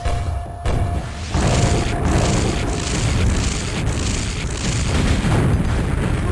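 Rocket and grenade explosions in the Quake arena map dm4, a dense, continuous barrage of loud booming blasts layered over one another with sharp bursts standing out, no talk.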